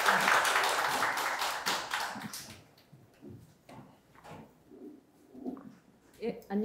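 An audience at a seminar applauds loudly at the start, a dense burst of clapping that fades within about three seconds into a quiet room with a few scattered taps and some speech.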